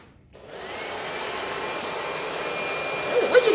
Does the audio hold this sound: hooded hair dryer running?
yes